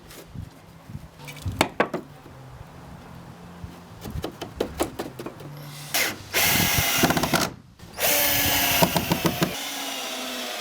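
Screws being driven into thin, 12mm treated feather edge cladding boards with a power drill, heard as short whirring bursts, sharp knocks and a couple of longer sustained drill runs, close and loud with no talking.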